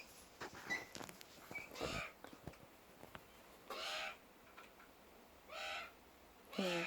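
Butcherbirds calling outdoors at a moderate distance, a series of rich, fluting phrases spaced out with pauses, some rising and falling, with short sharper notes in between.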